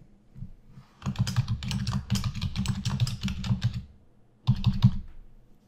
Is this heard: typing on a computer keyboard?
yes